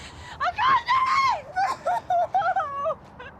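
A woman screams during a race, a series of loud, high, strained cries and wails over about three seconds, rising and falling in bursts close to the listener.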